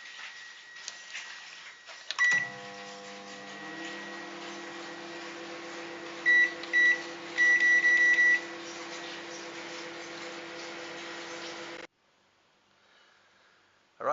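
Button beeps start a microwave being used as a kiln to fuse glass, which then hums steadily with a few more beeps along the way before the drone cuts off abruptly.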